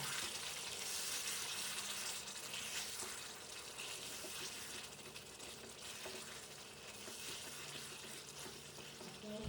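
Chicken pieces sauté for kosha in a pan, a loud continuous sizzle and frying hiss up close, with occasional stirring scrapes.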